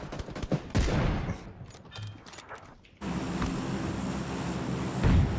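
Gunfire in the video game PUBG sounds as a scatter of sharp shots and short bursts, followed by a steadier rumbling roar of continued fire with a few louder cracks near the end.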